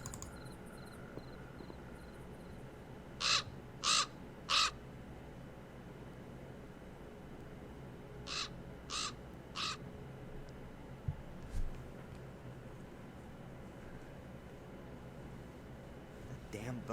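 Harsh bird caws from Black Mirror II, two bursts of three sharp calls each, loud against a quiet hum of game ambience with no talk.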